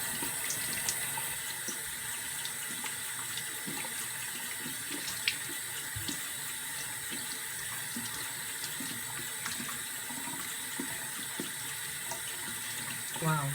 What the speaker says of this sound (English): So let's rinse it off and see if the makeup comes off.